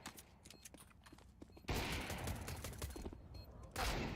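Pistol fire in Counter-Strike 2 during a competitive scrim, with a quick run of sharp shots followed by two loud bursts over game ambience.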